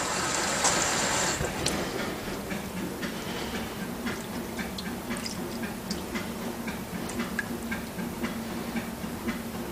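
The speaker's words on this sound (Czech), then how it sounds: "Ale můžeme tam nalejt vodu." Water trickles and gushes steadily into the dispenser of a Fagor 1LF 15IN dishwasher, with small ticking drips scattered throughout, preceded by a brief hissing burst at the start.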